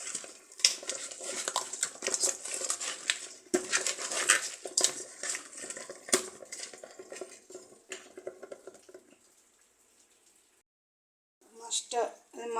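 Fish is mixed by hand with turmeric and chili powder in a metal dish, making repeated close clinks, scrapes and squelches that stop briefly and then start again.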